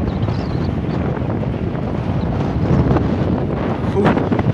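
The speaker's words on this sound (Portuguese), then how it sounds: "E tá ventando, hein" Steady, loud wind buffets the microphone throughout in London, a constant roaring rush with occasional stronger gusts and no voices.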